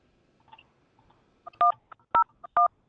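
A telephone keypad dials, giving a quick series of three loud touch-tone beeps after some faint quiet handling noise, each tone short and clear.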